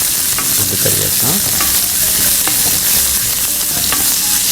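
Chopped onions hit hot oil with fennel, cumin and curry leaves, sizzling and crackling steadily and close while a spoon scrapes and stirs through the mix.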